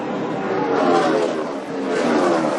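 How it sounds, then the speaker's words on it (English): A NASCAR race car accelerating hard out of pit road during a race, a loud close engine roar rising in pitch, dipping briefly and revving up again, with no talk. "that car, he got into the back of Kyle Busch exiting their pits"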